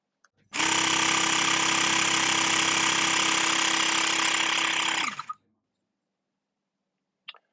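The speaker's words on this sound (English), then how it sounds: "press the center button, and that should start the pump off" A Xiaomi Mi portable electric tyre pump for a motorbike runs with a loud, steady mechanical whine and buzz for about four and a half seconds, then cuts off abruptly, leaving near silence.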